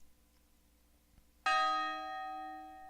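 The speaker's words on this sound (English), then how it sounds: "a bell usually does the trick for you" A bell sample in a type beat rings out in a single bright, clear strike after a quiet start and sustains with a long ringing decay, alone and without any voices.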